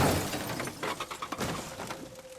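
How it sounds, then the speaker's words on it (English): A car crashing in a video game: a loud burst of shattering and breaking debris that tumbles and rattles, then fades over a couple of seconds, with no speech. "this might be hard to tell from the sounds that you just heard, but we might have crashed"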